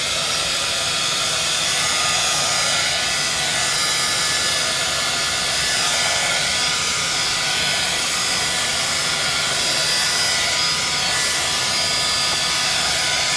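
A heat tool or dryer blows hot air over a layer of Shape Tape on handmade mandala paper. It gives a loud, constant, close whooshing roar that runs unbroken the whole time.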